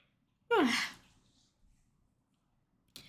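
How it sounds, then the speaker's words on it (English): A single quiet sneeze bursts out sharply and fades quickly, followed by near silence and a brief soft noise at the end. "I'm gonna sneeze"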